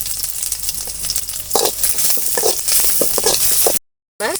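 Curry leaves, garlic and dried red chillies sizzle loudly in hot oil, a steady bright crackle with sharper spits and pops as the ingredients hit the pan, briefly cutting out near the end.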